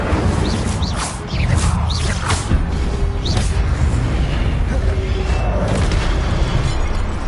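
The Incendio fire spell from Hogwarts Legacy erupts in a loud, dense burst of whooshing flame and crackle, with bright swishing spell effects early on, then holds a sustained roaring rumble to the end.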